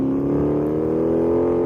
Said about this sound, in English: I love how it sounds when it shifts from second to third.